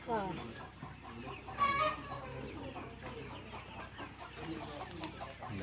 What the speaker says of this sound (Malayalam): ये अंडा देने वाला बड़ा मुर्गा है